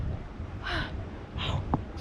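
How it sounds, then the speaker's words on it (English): Two sharp gasping breaths followed by a quick snort-like inhale, close and fairly loud, with no talking, from a person in cold lake water at Eagle Lake near Lake Tahoe. "I have a hard time breathing once I'm in the water"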